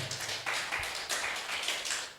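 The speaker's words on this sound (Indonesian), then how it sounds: "Tepuk tangan buat Tuhan kita." A church congregation claps their hands together in a dense, steady patter that rises and falls in short waves, filling the room at moderate loudness with no one speaking over it.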